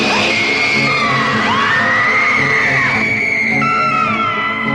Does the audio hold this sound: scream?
yes